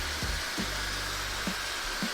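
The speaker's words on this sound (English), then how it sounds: "you're going to grab your blow dryer, you put it on roughly medium heat" A blow dryer set to medium heat runs steadily while styling hair, giving a constant close, breathy whoosh with a few soft low thumps under it.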